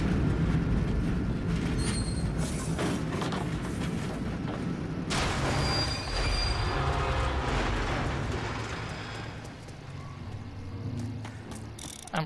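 A train rumbles past in the Mafia: Definitive Edition video game, a loud continuous mechanical clatter with rattling wheels and metallic squeals that swell midway and then ease off, with no talking over it.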